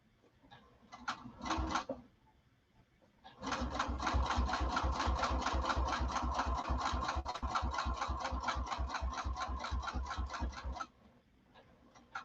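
A sewing machine stitches a line over a previous row of stitching. A short burst comes first, then a long, steady, rhythmic run of needle strokes lasts about seven seconds before stopping, close by.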